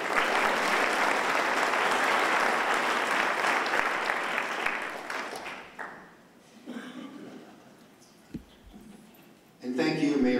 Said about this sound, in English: So we give a round of applause for Mike McKeever.